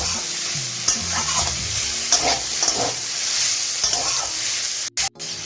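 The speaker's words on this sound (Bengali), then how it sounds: "এখন মিষ্টি কুমড়াটাকে মূলের সাথে কিছুক্ষণ রান্না করে দিচ্ছি" Pumpkin and radish fry together in a pan for a Bengali mulor chechki, a steady close sizzle broken by a few scraping stirs of a spatula and a brief dropout near the end.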